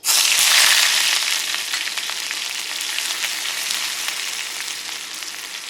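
Onions frying in a hot pan in a home kitchen, a loud steady sizzle that bursts up as they hit the oil and then settles into a continuous crackle.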